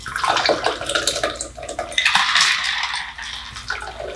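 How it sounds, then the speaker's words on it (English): Blood and Sand cocktail is poured from a shaker into a glass, giving a close, splashing liquid stream with clinking ice rattling in bursts before it trails off. "All right, let's get this puppy poured out and see what we have."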